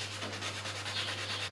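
Sandpaper worked by hand over a car wheel rim during refinishing makes a steady, quiet, continuous scratchy rubbing with a low electrical hum beneath it.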